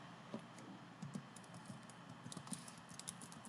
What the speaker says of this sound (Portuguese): Digitar aqui manualmente